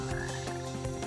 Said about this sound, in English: That's a frog noise. That's a croak, if you didn't know.